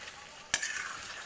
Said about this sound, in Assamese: পুৰা লাল পৰাকৈ ভাজি ল'ম